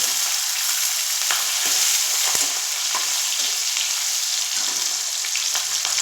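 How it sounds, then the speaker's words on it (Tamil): Green chilies, onions and tomatoes sauté in hot oil with a steady, dense sizzle and frying crackle. The sound is close and continuous, with small stirring scrapes, and no one speaks. "தக்காளி, இதெல்லாம் போட்டு நல்லா வதக்கிடலாம்"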